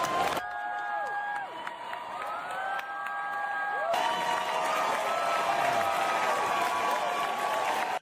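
A crowd cheers and applauds, with whoops and shouting that swell into a dense, sustained roar after a few seconds, mixed with whistle-like tones early on.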